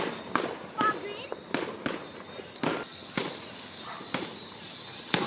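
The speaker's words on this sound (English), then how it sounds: "Look at that. Those are fireworks. Look at those over there." New Year's fireworks popping and cracking at a distance in a series of sharp irregular bangs, with people talking over them.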